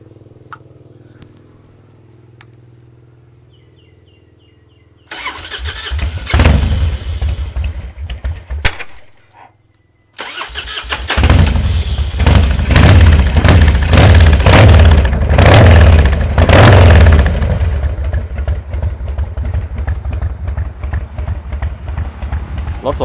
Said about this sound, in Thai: เครื่องยนต์แห้งๆเลยครับคาร์บูเรเตอร์ครับเดินเบานิ่งๆเลยนะ